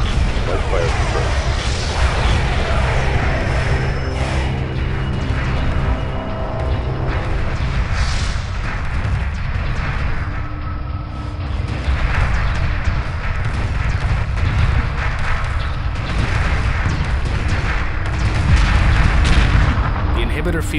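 Destroyer weapons in Homeworld Remastered fire as a steady, dense barrage of booming shots with rumbling space-battle ambience that stays loud throughout, and voices speak over parts of it.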